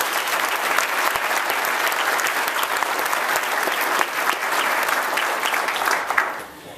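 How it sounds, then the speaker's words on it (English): A graduation audience applauds its student speakers, a loud, dense and sustained round of clapping lasting several seconds before tapering off quickly at the end. "Let's give our student speakers one more round of applause."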